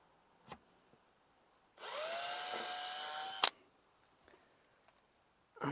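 A power drill bores a hole into a van and whines steadily for about two seconds at close range. It ends with a sharp click, and there are quiet handling taps before and after.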